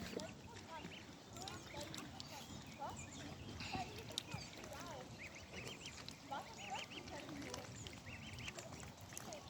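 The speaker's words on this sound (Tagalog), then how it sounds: "Papakain tayo ngayon ng swan." Swans and other waterfowl being fed at Elsensee, a lake in Berlin, with busy quacking and honking calls over a steady outdoor background and people talking nearby.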